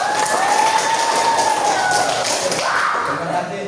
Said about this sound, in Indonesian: Ya, kita berikan aplaus,